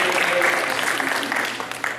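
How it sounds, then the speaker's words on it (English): Short burst of clapping from a small group at a youth club gathering, close and moderately loud, fading slightly toward the end. "give yourself a round of applause"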